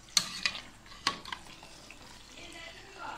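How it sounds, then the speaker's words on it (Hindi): Onion and chicken being stirred in a pan for baati chicken, with a few sharp scraping clicks early on, then a faint sizzle and low background noise, no talk. "अब हम इसे अच्छे से मिक्स करेंगे। ऐसे कर देंगे कि प्याज और जो चिकन है वो अच्छे से मिक्स हो जाए"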